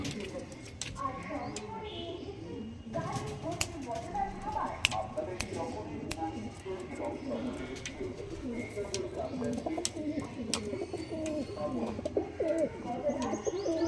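Andhra breed pigeons coo softly and continuously, with flapping wings and light clicks, and a person speaks at times beneath the birds.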